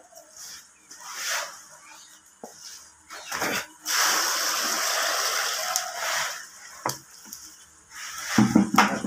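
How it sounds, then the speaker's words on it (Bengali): Water is poured over freshly harvested red potatoes during potato chip manufacture, giving bursts of splashing and running water that rise and fall, with a longer steady pour in the middle and clattering near the end. "আর এর মধ্যে আমি জল দিয়ে দেবো।"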